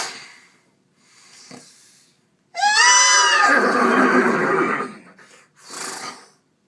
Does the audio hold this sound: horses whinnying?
yes